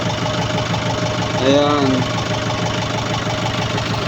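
A tractor engine idles and runs steadily with a low, rhythmic throb close by, and a brief voice speaks over it partway through.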